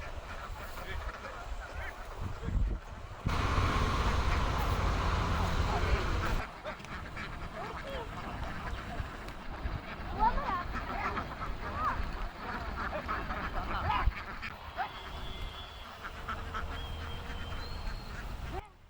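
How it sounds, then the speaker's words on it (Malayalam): Ducks quack repeatedly outdoors at a moderate distance in paddy fields at Chemmanda, Thrissur, with scattered honks, murmuring voices and a busy open-air background. "അവിടെ ഒരു കുട്ടി താറാവുകൾ ഓടിച്ച് കളിക്കുന്നുണ്ട് കേട്ടോ"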